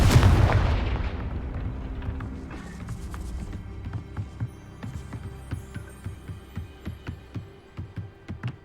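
A Confringo blasting spell in Hogwarts Legacy explodes with a loud, deep boom that fades over a couple of seconds, followed by a regular run of mechanical clanks and creaks.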